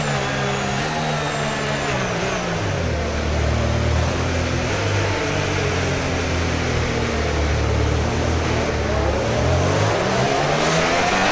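Formula 1 car in the F1 26 racing game accelerating out of a hairpin, a loud steady engine roar whose pitch climbs through gears, sustained throughout without talk.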